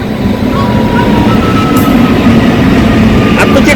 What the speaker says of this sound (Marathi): आत्तूची ट्रेन आली ना